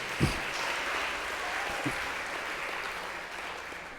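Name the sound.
applause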